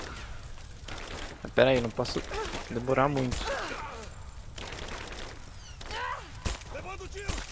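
Gunfire in the Rise of the Tomb Raider video game, with bursts of shots and cracks through the scene under ongoing game dialogue and a player talking over it.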